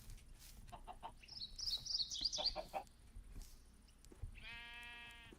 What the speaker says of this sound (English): is that one of our chickens? And it sure is.